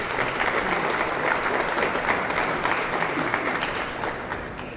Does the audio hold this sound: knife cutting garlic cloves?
no